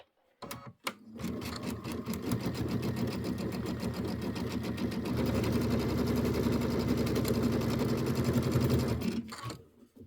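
A sewing machine pieces Kimberbell Hello Sunshine quilt blocks (four-patch and pinwheel) in needle-down mode, running in one steady, close, loud stretch of rapid stitching that ends in a quiet stop.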